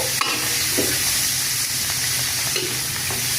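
Sliced mushrooms hit a hot pan already holding bell pepper, setting off a loud, steady sizzle with a few scraping stirs and no talk.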